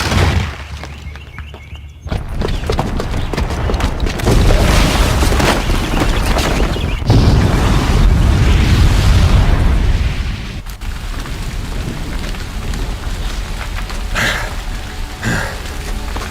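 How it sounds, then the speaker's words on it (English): A bomb in Horizon Zero Dawn goes off with a loud boom after a quiet opening, followed by a long, dense roar of falling debris and rumble that trails off into scattered crashes and thuds. "the booby trap on the bomb downstairs is gonna get set off"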